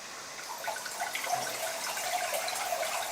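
Wine trickling steadily from a bottle into a glass as butler trainees practise a vintage pour, a soft, continuous liquid stream heard up close and fairly quiet, with no voices.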